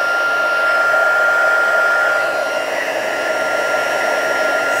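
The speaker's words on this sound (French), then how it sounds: "c'est que ton pistolet chauffant est encore pas assez chaud" A heat gun blows hot air over a handmade Christmas card, a loud, steady whooshing roar that holds for several seconds with no voices.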